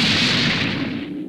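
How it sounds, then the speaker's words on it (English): A rocket launcher fires a single loud, close blast that decays in a rushing roar over about a second. "Is that a rocket launcher?"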